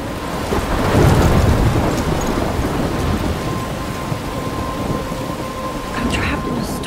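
Thunderstorm with heavy rain in the video game Life Is Strange, a steady loud downpour with deep rolling thunder building early and rumbling throughout, no voices.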